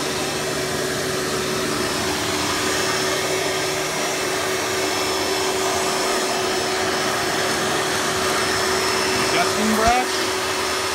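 Hoover Legacy U5053-930 upright vacuum cleaner, a direct-air machine, runs with a steady loud motor roar and whine throughout, with a brief bump near the end.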